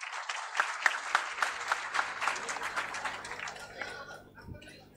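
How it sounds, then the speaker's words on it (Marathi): An audience at a Maharashtra Navnirman Sena district workers' meeting in Amravati applauds with sustained, dense clapping that fades away toward the end. "सर्वांनी टाळ्या वाजवायच्या."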